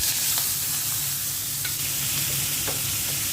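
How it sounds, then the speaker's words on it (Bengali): Onion sizzles in oil left over from frying tilapia, with a continuous crackling fry and a few light stirring taps, close by and with no voices. "এখন মাছ ভাজা তেলের মধ্যে পেঁয়াজ দিয়ে দিচ্ছি"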